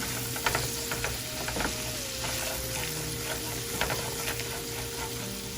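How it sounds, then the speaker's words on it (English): Onion powder gets stirred through a frying pan of brown sugar garlic chicken under a steady, close sizzle, with soft scraping strokes and small taps from the utensil, plus a faint thin tone running underneath. "A little stir, make sure nothing's burning."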